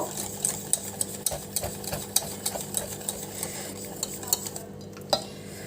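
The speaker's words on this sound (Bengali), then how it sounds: "ভালো করে নেব, একদম ফেটিয়ে নেব" Jalebi batter is whisked in a bowl, a fast, steady series of light metallic clicks and scrapes close by, with a slight swishing of the batter beneath them.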